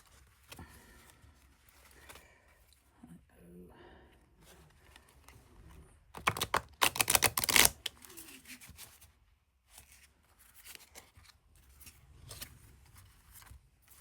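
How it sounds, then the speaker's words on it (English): Tarot cards from the Magical Hours deck shuffle and slide against each other in a quiet room, with a burst of dense, loud riffling in the middle and softer card handling scattered before and after. "let's now draw some cards and look at the guidebook"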